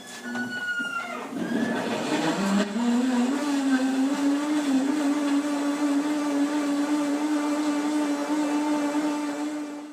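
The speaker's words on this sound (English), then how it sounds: "let's start to blend this" A blender whirs loudly and steadily blending vegetables and water, its motor pitch dropping and settling into a continuous hum as the contents churn, with no talking.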